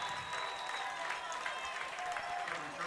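At a varsity high school football game, a crowd cheers and claps from a distance after a good kick return, a faint continuous roar with scattered voices rising above it.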